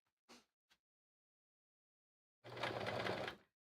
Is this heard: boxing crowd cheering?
no